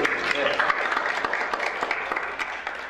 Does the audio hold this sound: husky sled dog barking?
no